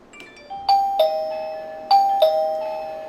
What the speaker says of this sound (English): When I press the doorbell, I'll get a notification on the iOS.